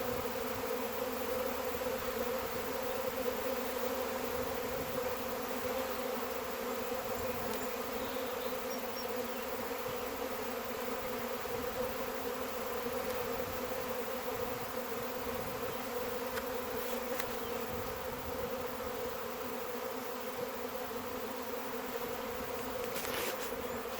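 A swarm of honey bees drones continuously, a dense steady buzz that stays even and fairly faint throughout, with no voices over it.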